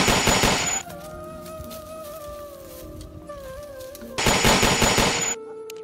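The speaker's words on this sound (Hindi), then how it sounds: "ये तो बहुत तगड़ी फायर कर रहे हैं, यहाँ से भागना होगा" Heavy gunfire from an army firefight bursts out loud and dense, a rapid volley at the start and another near the end, with a quieter tonal lull between them.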